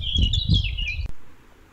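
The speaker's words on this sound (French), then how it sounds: "T'as vu l'oiseau qui arrivait très vite? Un merle, je crois." A blackbird chirps in a quick burst of bright, high calls over a loud low rumble for about a second, then everything cuts off with a sharp click and fades to quiet.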